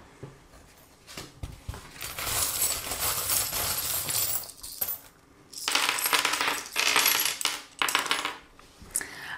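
Metal charms are cast onto a table for a reading in several bursts of jingling, clinking rattles that tumble and scatter, fairly close and loud, with quiet pauses between throws.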